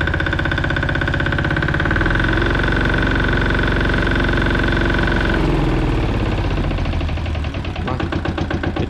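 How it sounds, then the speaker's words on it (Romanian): A Goldoni Joker 8DS walk-behind tractor engine runs close up with a loud, robust, steady mechanical drone and rattle, the tone shifting partway through and turning to a rougher, pulsing chug near the end. "Auziți motorul cum sună."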